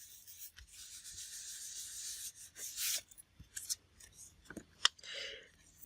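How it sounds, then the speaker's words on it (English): Scissors cut and trim kraft cardstock for a handmade Christmas journal, quiet close snips and rubbing paper sounds in short bursts with pauses between. "I will take them and just put them onto my cardstock, because then I can just trim it down."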